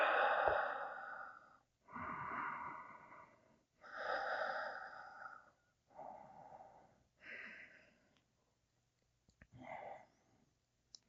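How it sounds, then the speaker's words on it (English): Slow, deep breaths during a seated yoga twist, six long audible inhale-exhale cycles close to the mic, each swelling and fading, with a quiet pause before the final short breath. "Really breathe deep, deep down."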